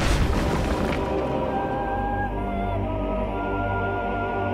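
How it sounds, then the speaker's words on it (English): Seventeenth-century cannon artillery fires a cannonade: one heavy boom opens the clip, then a deep rumble lingers and slowly fades without a break. "as they blast out their deadly cannonade"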